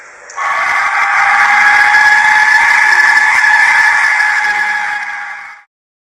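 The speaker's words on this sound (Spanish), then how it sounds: "Este es el sonido de un silbato de la muerte." An Aztec death whistle gives a single sustained, piercing, breathy shriek lasting about five seconds, loud and close, before cutting off abruptly.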